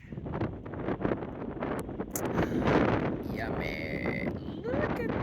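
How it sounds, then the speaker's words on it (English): Gusty outdoor wind buffeting the microphone with loud, rumbling low-end roar that swells and eases, while a voice speaks faintly under it. "Sorry about the wind."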